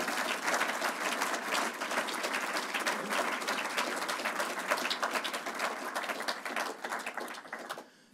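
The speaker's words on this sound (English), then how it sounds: "I wonder if we can all give them a round of applause" An audience at an evening lecture applauds, steady dense clapping from a large room that holds for several seconds and then tapers off at the end.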